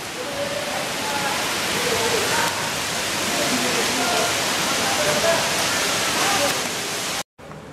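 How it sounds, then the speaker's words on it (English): Steady rain falling outdoors in Bangladesh, a dense, even hiss of drops holding throughout, with faint voices mixed into the wash before a brief cut near the end. "It's raining outside."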